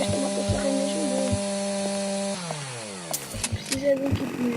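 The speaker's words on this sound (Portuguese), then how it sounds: "Parece que esta motosserra é mesmo boa" A chainsaw in a zombie video game buzzes with a sustained tonal whine that drops in pitch partway through, followed by sharper clanking game effects and impacts.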